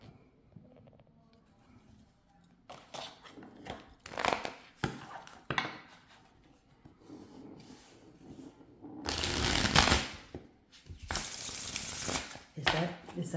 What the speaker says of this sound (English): A delightful shuffle.